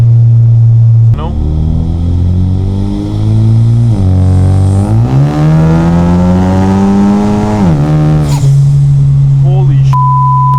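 Ford EcoBoost four-cylinder engine fitted with a CVF downpipe, revving up through rising and falling pitch sweeps, loud and close for about ten seconds, with a deep, throaty tone that settles into a steady idle.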